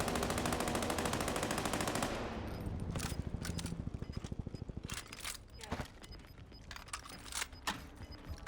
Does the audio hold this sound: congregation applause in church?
no